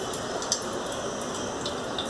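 Steady trickling and splashing of excess water draining from yogurt curds strained through muslin cloth close by, a continuous wet rush without pauses.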